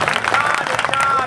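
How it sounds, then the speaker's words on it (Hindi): Audience applause at a Hindi-Urdu poetry recital (mushaira), a dense spread of clapping from a crowd that holds steady through the moment, with voices mixed in over it. "जरा ताली वाली बजाकर मुझे हिम्मत दीजिए"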